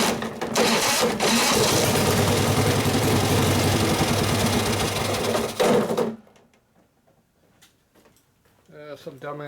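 A Harley Sportster 650cc single-cylinder land-speed race engine fires up and runs loud and raw with a rapid, hard-edged beat for about six seconds, then cuts out abruptly, leaving near silence and a voice speaking afterward.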